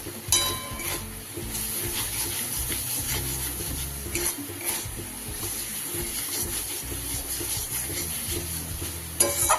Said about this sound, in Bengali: খুব সুন্দর করে মশলাটা আমার কষানো হয়ে গেছে